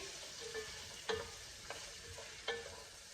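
Carrots and celery stirred in a soup pot, four light spoon scrapes and taps at uneven intervals over a faint steady sizzle, quiet and close with no talking.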